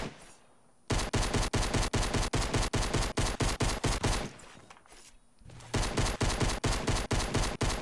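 Rapid automatic gunfire in the Fortnite Battle Royale video game, loud dense bursts of shots separated by two brief pauses, with no talk over it.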